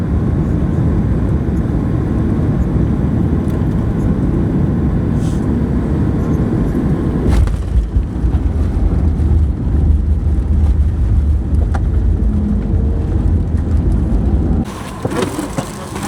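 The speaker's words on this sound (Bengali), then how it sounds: "ঢুকে গেছে ফ্লাইট এয়ারপোর্ট টেরিটরিতে," A passenger airplane landing at Shenzhen airport, heard from inside: a loud, steady roar of engines and rolling that continues throughout, then briefly drops off near the end.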